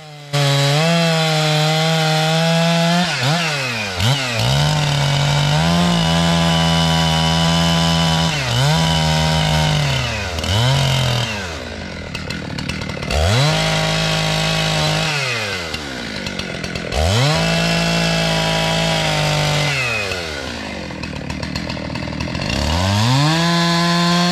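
An old Husqvarna-style 372 chainsaw with a 20-inch bar and full wrap handle roars loudly while cutting through wood, its engine pitch dropping under load and rising again in repeated cycles over a steady idle.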